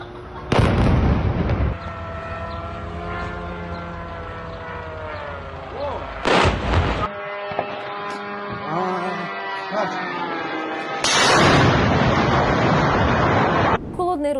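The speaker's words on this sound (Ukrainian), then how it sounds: "Вот только що прилетел еще один дрон." Several loud, booming blasts from drone strikes burst out, the first near the start, another a few seconds later, and a longer rumbling one near the end, with shouting voices between.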